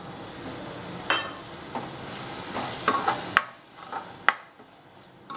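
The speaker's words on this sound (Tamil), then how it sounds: "இந்த தயிரை சேர்க்குறேன்" Yogurt is stirred into paneer biryani masala in a hot pan, with a spoon scraping and tapping in uneven strokes over a soft sizzle that fades toward the end, close by with no voices.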